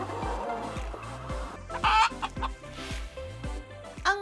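Chickens cluck repeatedly in a steady, close rhythm, with a brief louder squawk partway through and a faint rooster-like call, no talk over them.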